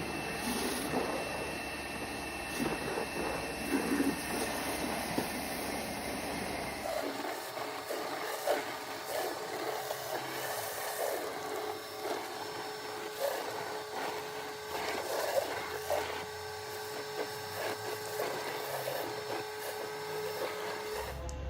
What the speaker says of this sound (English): We're going to wash these tiles and see how good the K2 pressure washer is going to perform in this area.